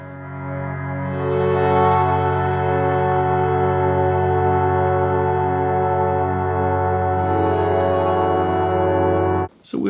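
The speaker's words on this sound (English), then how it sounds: "Oh, we can do freeze reverb." Hydrasynth synthesizer held through a freeze reverb, a dense, loud sustained wash of tone that swells with bright layers early and again near the end, ringing continuously for ten seconds before cutting off.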